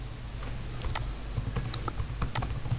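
A computer keyboard clatters with quick irregular key presses in short bursts, close and clear, with no voice over it.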